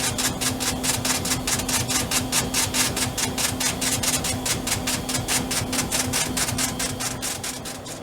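An old 1980-era computer printer hammers out a fast, steady rhythm of sharp repeated strikes over a constant mechanical hum, close and loud, printing ASCII art.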